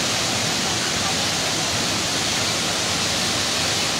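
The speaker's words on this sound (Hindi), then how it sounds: "आज गिरजा देवी मंदिर के चारों तरफ देखिए कोसी नदी की बाढ़ का दृश्य देखिए आप" The flooded Kosi river spreads around the Garjiya Devi temple at Ramnagar, Nainital, during Uttarakhand monsoon rains, giving a loud, steady broadband roar of rushing water that fills the whole stretch with no pauses.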